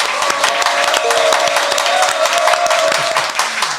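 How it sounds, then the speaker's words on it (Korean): Studio audience applause opens a Korean current-affairs talk show: loud, busy clapping and crowd noise close by, with a sustained musical tone running underneath and a slight dip near the end. "여러분의 힘찬 박수와 함께 시작하겠습니다"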